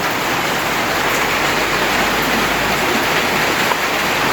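Typhoon floodwater rushes steadily and loudly into a house, a dense continuous roar like a flooding torrent pouring in, with no breaks.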